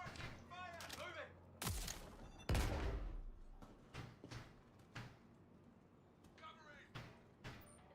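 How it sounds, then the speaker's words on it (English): Gunfire exchanges in the video game Star Citizen, several sharp loud bursts and single shots spread across the moment, with a heavy blast near the middle, over game effects and voices. "So they're shooting somebody."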